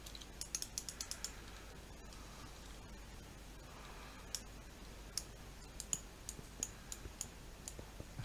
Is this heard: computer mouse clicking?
yes